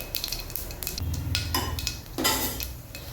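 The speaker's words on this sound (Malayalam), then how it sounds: "ചെറിയ ഉള്ളി ഇടാം." Shallots hitting hot oil in a pan while tempering mustard seeds, fenugreek and dried red chillies for mango pulissery, giving a steady close sizzle with scattered clinks of utensils against the pan.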